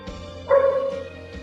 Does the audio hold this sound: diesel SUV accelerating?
no